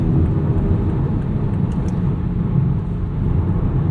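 A 2020 BMW X4M Competition with an 8-speed automatic hums along under way, a steady loud engine and road rumble with no distinct shift breaks, and no one talking.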